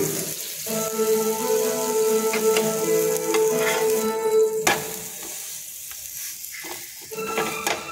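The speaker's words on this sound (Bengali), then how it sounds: "আঁচ কমিয়ে এগুলো একটু সেঁকে নেব, চাপা দিয়ে দিয়ে একটু সেঁকে নেব" A keema paratha toasts in a pan over low heat, its gentle sizzle joined by scraping and pressing sounds from a utensil, with tonal kitchen noise in the first half and no talking.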